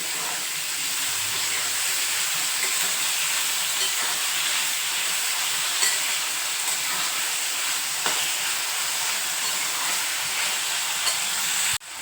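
Tomatoes tossed into a pan of reddened fried onions sizzle and hiss steadily, with faint stirring scrapes now and then and a sharp clack at the end.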